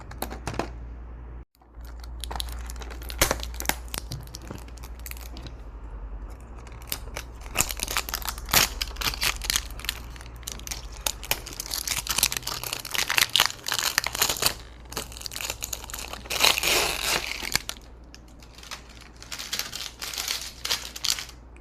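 Plastic packaging on a c151 toy crinkles and crunches close up as it is unboxed, with dense bursts of rustling, tearing and snipping over a low steady hum, alone and without talk.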